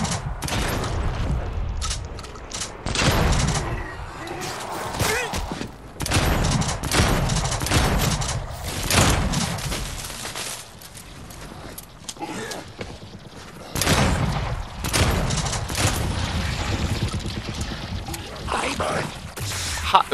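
Sustained bursts of video game gunfire in Dead Island 2 on PS5, loud rapid volleys rolling almost continuously with brief lulls and a few heavy booms.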